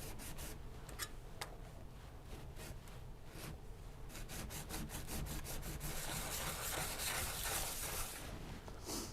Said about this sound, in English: We're going to rub both faces of both sides to get the remainder of that burr off.